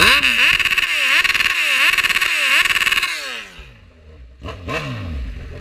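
A Kawasaki Z1000 motorcycle engine revs hard in cold 5°C weather, loud and close: four rhythmic throttle blips climbing and falling, then it drops to a rumbling idle before one last quick rev.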